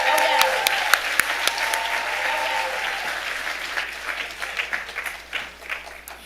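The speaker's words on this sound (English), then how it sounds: "Let's give them a round of applause." A crowd at a children's charity benefit gala claps steadily, a warm burst of applause that slowly thins out over several seconds.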